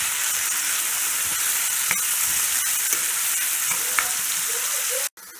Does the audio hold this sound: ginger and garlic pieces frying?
yes